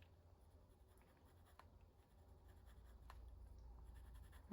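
Pastel pencil scratching and rubbing across a stamped, Distress Oxide–inked journal page, a soft steady scratchy texture close up with a couple of faint ticks and no voices.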